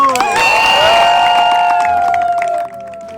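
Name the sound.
pilgrims applauding and cheering in Corinth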